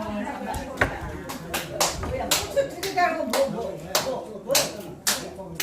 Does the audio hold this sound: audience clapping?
yes